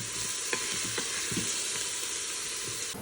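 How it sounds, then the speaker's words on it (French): Onions sizzling and frying in a little olive oil in a home kitchen, a steady close crackle with a few light stirring knocks, no talking. "J'ai mis des oignons à rissoler d'un petit peu d'huile d'olive."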